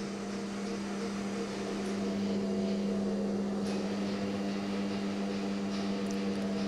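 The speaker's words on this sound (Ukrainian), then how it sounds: "Продовжуємо нарізку різьблення." A metal lathe cuts a thread at a skills competition, giving a steady mechanical hum with a strong constant drone and faint broadband cutting noise throughout, no speech.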